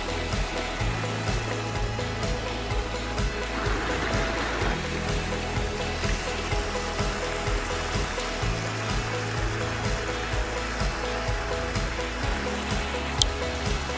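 Water flows steadily over textured rock in a large backyard eco-system pond water feature, a constant near trickling and splashing wash with no talk.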